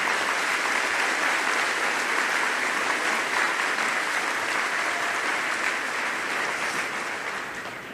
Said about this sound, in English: So a quick round of applause for all of these amazing achievements.